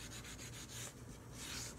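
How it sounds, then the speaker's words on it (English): A small piece of sandpaper rubs over a lacquer finish between coats, giving steady close-up scratchy strokes with a broad hiss, repeated back and forth without pause. "The lacquer has to be sanded in between coats."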